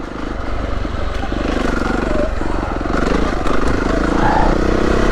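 A Beta 390RR motorcycle rides along a hard-packed dirt green lane, its engine droning loud and close with shifting revs and wind rush, while a rider's voice talks over it.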